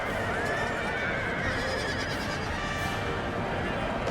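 Cavalry horses neigh amid a dense Napoleonic battle in the Total War: Napoleon game, with whinnies rising over constant loud combat noise and a commentator talking throughout.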